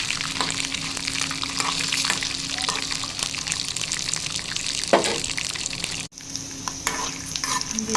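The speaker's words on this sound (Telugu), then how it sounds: "ఉల్లిగడ్డలు పచ్చిమిర్చి ఆయిల్ వేసి వేసుకున్నాను." Sliced onions and green chillies fry in hot oil, giving a continuous loud sizzle with occasional stirring scrapes and a brief break near the end.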